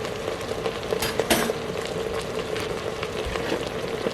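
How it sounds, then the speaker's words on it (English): Chicken with garlic and onion stirred in an oiled pan, a steady close sizzle broken by scraping and clinks of a utensil against the pan. "Then you stir it around for a minute."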